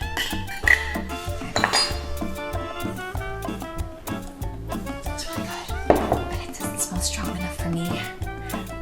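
Spoon clinking and scraping in a bowl while stirring a garlic and ricotta cheese mixture, a steady run of close metallic taps and clinks with a few louder knocks, with talking mixed in.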